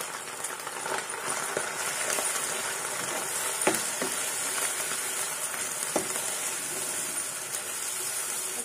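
Chopped tomatoes sizzle and fry in a hot pan while cooking soya keema with vegetables, a steady close sizzle with occasional stirring clicks and no talking.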